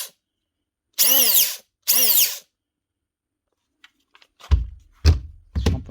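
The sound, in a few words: Makita DTM51 cordless 18 volt multi-tool running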